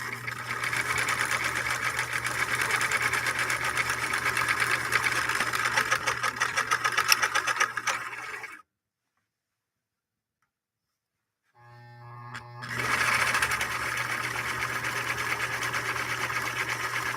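A 1958 Husqvarna Viking Type 21 sewing machine stitching with a steady, fast mechanical whir and hum, stopping abruptly for a few seconds of silence before starting up again and running on.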